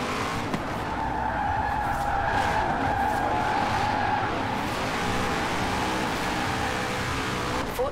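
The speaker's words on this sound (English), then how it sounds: "see if we can get some drifting going on" Car drifting with tire skids in Forza Horizon 4, a car running on a drift tune around a racetrack: a steady, loud engine drone with sustained squealing tires throughout, and no talking.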